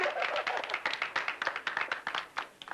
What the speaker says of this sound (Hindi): ताली बजाओ, ताली, ताली